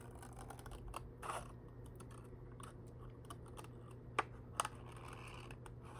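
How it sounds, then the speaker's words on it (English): Scissors snip through paper in a run of faint, irregular cuts, ending with a couple of sharper clicks, heard close in a quiet room. "We just need to cut out the little bracket end here."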